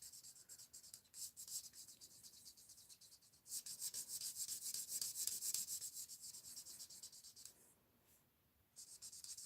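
A light green marker rubs back and forth over paper while coloring a gift shape on a card, a close, scratchy stroking that runs in bursts of quick strokes with a brief pause, no speech.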